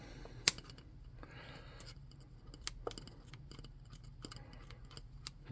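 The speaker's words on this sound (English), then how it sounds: "I'm going to rough those up with my scissors" Scissors snipping and roughing up small flat craft pieces for a tabletop wraith model, a series of faint, quiet clicks and short snips at an irregular pace.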